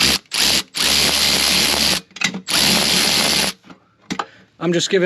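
Bursts of a power driver or ratcheting tool snug the pump wedge bolts on a 2022+ Kawasaki Ultra 310 jet ski, several loud buzzing runs a second or two long separated by pauses.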